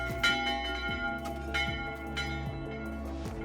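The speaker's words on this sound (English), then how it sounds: "they are so happy that they ring out the church bells." Church bells ringing in a steady, repeated rhythm, resonant tolls with lingering hum, heard at moderate distance.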